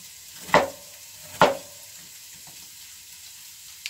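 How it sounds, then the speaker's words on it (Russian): Diced beetroot frying in a pan, two sharp sizzling bursts as pieces hit or are stirred in hot oil, then a faint low hiss, close and quiet otherwise. "Вот просто обжариваем."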